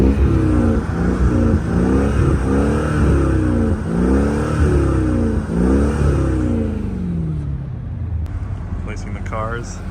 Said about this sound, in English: Placing the cars.